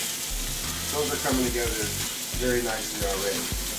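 Food frying in a pan with tarragon, sizzling steadily while pieces are flipped and pressed down, with several soft clanks of the utensil against the pan and someone talking over it.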